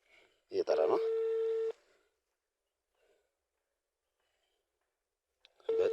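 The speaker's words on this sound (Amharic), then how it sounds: "እየጠራ ነው።" An outgoing phone call rings back with two sustained tones about a second long, separated by a long silent gap, clear and close; a brief voice-like sound precedes the first tone.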